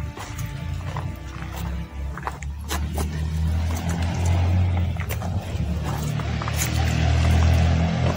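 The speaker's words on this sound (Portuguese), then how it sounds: "Carro passando." A car passes near a cemetery at night, a steady low rumble with broadband road noise that swells gradually and grows loudest toward the end.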